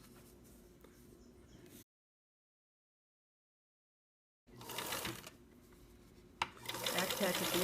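A sewing machine stitches a short seam of about a quarter to three-eighths of an inch and then back tacks, running in two bursts separated by a silent gap, fairly close and steady.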